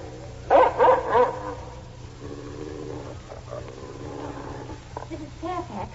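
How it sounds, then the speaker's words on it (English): A dog barks loudly three or four times in a 1946 radio drama adaptation of Jane Eyre, the sharp barks ringing out over a low hum before fading into quieter background sound. "Mrs. Fairfax, what dog is that?"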